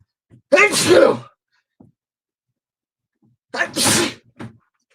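Two loud, close sneezes separated by a few seconds of silence, each with a sharp sudden burst and brief breathy aftermath.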